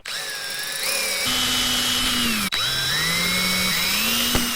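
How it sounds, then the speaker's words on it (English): A power drill whines steadily, its pitch dipping as it bites into the metal housing of a snowblower while drilling holes for an hour meter, with a brief pause midway before drilling resumes up close. "All right, let's drill."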